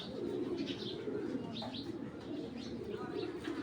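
Bezi-breed racing pigeons, including a hen, coo softly amid light chirps and rustling in a loft, with a voice talking over the birds throughout.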